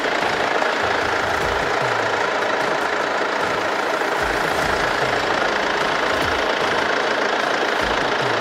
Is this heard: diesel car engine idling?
yes